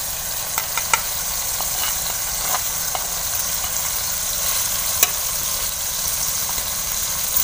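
Tomatoes frying in a pan with salt, turmeric and red chili powder for an aloo chole pulao, giving a steady, close sizzle with a few faint clicks of stirring and no talking.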